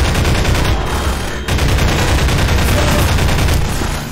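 Sustained rapid gunfire from a weapon in a Half-Life 2 mod, loud and dense throughout with a brief dip midway, bursts running together without pause.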